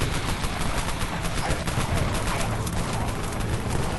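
Dense, continuous SMG gunfire from many players during an invasion event in the online zombie game Dead Frontier, rapid overlapping bursts filling the whole stretch at steady loudness.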